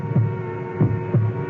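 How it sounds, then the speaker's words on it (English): Heartbeat sound effect: three slow, low thumping pulses at an even pace over a steady hum, close and alone with no voices. "It's my heart beating. I'm hearing my own heart."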